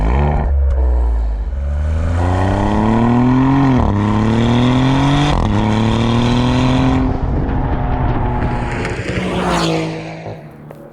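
A new Maserati GranTurismo's engine revs hard, climbing steadily in pitch through several rising pulls with brief drops between shifts, loud and close throughout.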